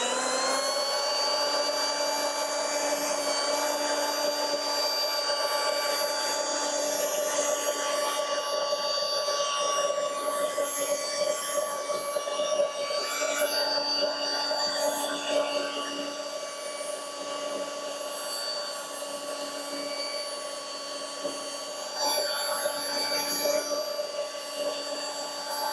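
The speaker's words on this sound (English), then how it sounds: "We're going 1600 RPM on the mop, and nice and slow sort of passes just to refine it." A rotary polisher with a mop pad runs at 1600 RPM, refining the paint on a Volkswagen Golf. It gives a steady, close, high-pitched motor whine with a faint swishing, holding nearly constant in slow passes. No one speaks.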